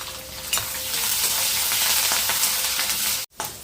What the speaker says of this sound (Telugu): తాలింపు వేగింది కదా, కరివేపాకు వేసుకున్నాము.